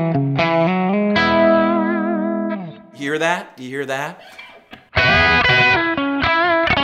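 Electric guitar played through a Kemper amp with no high-end roll-off EQ rings out thick and distorted in sustained chords, loud and up front, breaking off mid-phrase for a man's brief speech before the chords resume.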